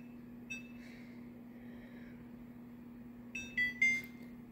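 An oven timer gives a few short electronic beeps as it is set, a single chirp first and then a quick cluster of beeps a few seconds later over a steady low hum.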